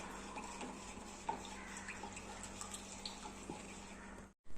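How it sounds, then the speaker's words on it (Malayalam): Soft continuous sloshing of a water mixture with Ujala liquid blue being stirred, with faint scattered clinks, steady and close, no voices. "ഇനി ഇതെല്ലാം കൂടെ നമുക്ക് നന്നായിട്ടൊന്ന് മിക്സ് ചെയ്ത് കൊടുക്കാം"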